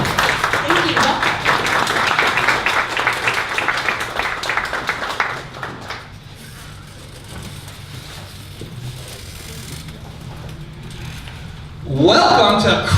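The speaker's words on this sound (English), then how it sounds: "We welcome Mala and Paul to the stage with a round of applause." An audience at a 1 Million Cups Dallas event applauds, giving a loud, dense round of clapping for about six seconds that fades into room noise before a voice begins speaking.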